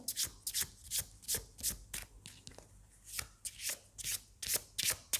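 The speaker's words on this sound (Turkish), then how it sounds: "Karıştıralım." Tarot cards being shuffled by hand, a steady run of quick riffling bursts roughly every half second, close and fairly quiet with no talk over them.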